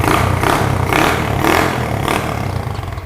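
A custom Honda Monkey motorcycle engine runs loudly right after starting, its exhaust pulsing in a steady rhythm of throaty surges close to the microphone.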